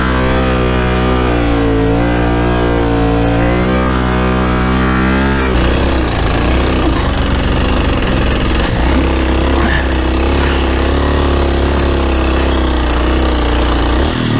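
A Yamaha Tenere 700 motorcycle rides through sand, its engine droning loud and steady throughout, with the tone shifting rougher partway through as the bike works harder.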